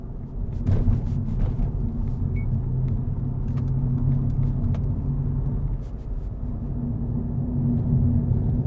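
From inside a 2015 Mercedes CLA45 AMG on the move, a steady low road rumble and muted engine drone hold constant, with a few faint knocks and rattles in the cabin and no talking.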